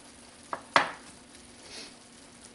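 Onion softening in a pan for a lamb and eggplant moussaka, with two sharp utensil taps followed by a quiet, steady sizzle and no voices.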